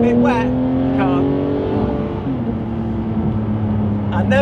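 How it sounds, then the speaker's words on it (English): A Porsche GT3 sports car with a Sharkworks exhaust, a sustained loud engine note with rising and falling pitch as it revs and pulls, heard from inside the car, with a voice speaking over it. "I never ever tire of hearing that Sharkworks box"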